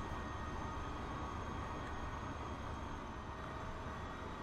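Diesel trains racing in Transport Fever, a steady, continuous low rumble of engines and rolling wheels, fairly quiet and unchanging, with no other sounds on top.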